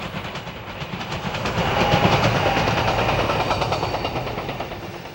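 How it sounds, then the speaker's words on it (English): A three-car SEPTA electric multiple-unit train on the Harrisburg line draws nearer, its steady rail roar and clickety wheel rhythm swelling to a peak midway and holding loud to the end, with no voices. "another SEPTA train approaches the downtown area on the Harrisburg line"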